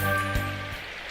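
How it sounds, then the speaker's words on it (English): Steady rain hiss from the visual novel Symphonic Rain, a dense even wash of falling rain with a faint low tone fading out partway through. "I fell asleep while listening to the rain"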